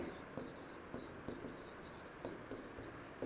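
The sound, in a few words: writing out a math solution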